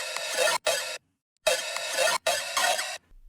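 A raw synthesized dubstep bass with no post-processing plays in three short bursts of harsh, buzzing, noisy tone, divided by brief silences and a longer gap.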